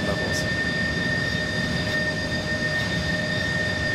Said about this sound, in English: I found the engine sounds to be very satisfying, especially in the higher N1 levels.